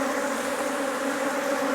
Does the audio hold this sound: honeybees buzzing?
yes